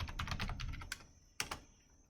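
Rapid run of clicky keystrokes on a computer keyboard while entering a username and password, close and fairly quiet, ending with a couple of firmer isolated key presses.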